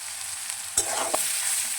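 Raisins go into a hot pan of frying cashews for fried rice, a dense close sizzle broken by two sharp clicks of stirring, with no voices.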